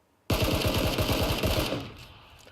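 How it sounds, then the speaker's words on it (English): Rapid automatic-sounding gunfire from an SKS rifle in a shooting video game, a loud sudden burst of fast repeated shots that stops abruptly and leaves a fading echo, with no talk. "pull up my weapon and start firing"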